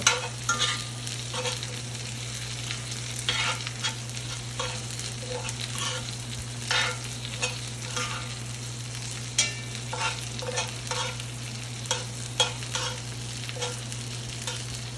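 NY strip steak frying in a cast iron pan over moderate heat, a steady sizzle with intermittent crackling pops and spatters, close and continuous with a low hum underneath.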